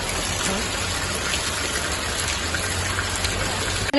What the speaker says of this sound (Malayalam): മഴ പെയ്യുണ്ട്